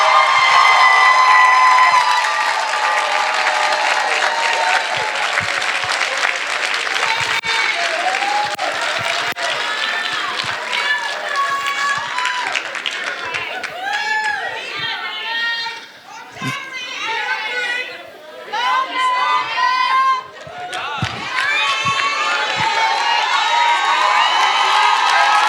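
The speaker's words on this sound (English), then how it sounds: "Can we cheer for the graduates again?" A crowd at a practical nursing graduation ceremony claps and cheers loudly for the graduates, with sustained applause, shouts and whoops, and a voice speaking over the noise.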